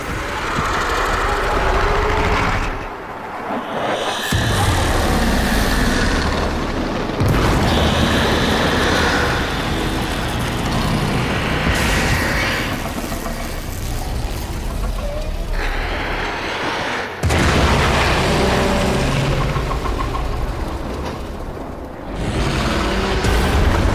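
A long, dense roar of explosion and rumble from the Warframe video game on PS4, loud and sustained with a few abrupt cuts and bursts, under game music and effects.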